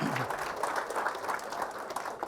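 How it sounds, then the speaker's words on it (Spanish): An audience at an international lemon seminar applauds an engineer, with dense, steady clapping filling the room at moderate loudness and a brief low voice at the very start. "Y nuevamente un fuerte aplauso para el ingeniero Dolores"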